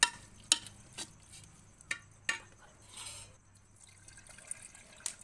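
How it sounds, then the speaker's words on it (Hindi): Lassi drips and splashes into a pot, with a few sharp separate plops and trickles spread over several seconds, close by and otherwise quiet. "ये लस्सी घेर दी इसमें थोड़ी सी"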